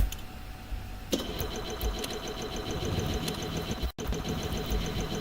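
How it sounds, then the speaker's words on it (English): An engine driving a propeller, switched on from a switchbox, catches abruptly after about a second and then runs steadily at a mid-pitched idle, with one brief dropout before carrying on. "And now let's test the engine. Let's just turn it on."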